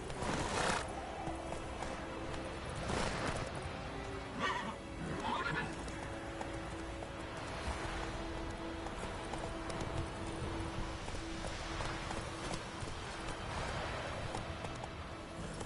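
A horse in The Witcher 3 neighs and whinnies, then hooves clip-clop in a steady galloping rhythm, fairly quiet and close, continuing through the whole stretch with a brief voice urging it on.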